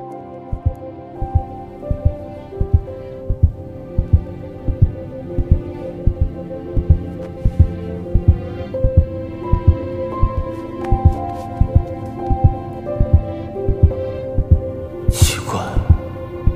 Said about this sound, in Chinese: 怎么心跳得这么快？